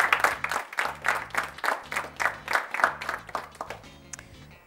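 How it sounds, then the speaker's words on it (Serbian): An audience at a school debate competition giving a round of applause, loose rhythmic clapping in pulsing waves that thins out toward the end. "Ajdemo još jedan aplauz."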